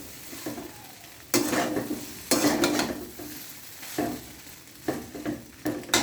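Egg chowmein being stirred and tossed in a frying pan over low heat, with repeated bursts of scraping utensil strokes against the pan over a steady sizzle, close up and with no talking.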